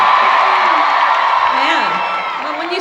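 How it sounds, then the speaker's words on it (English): A live audience at a comedy podcast taping in Austin cheers and whoops loudly and continuously, a dense sustained roar of many voices that stays strong throughout. "come on, cheer for your fucking home team"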